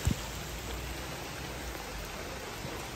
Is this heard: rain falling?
yes